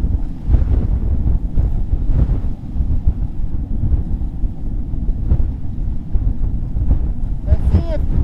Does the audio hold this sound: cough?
no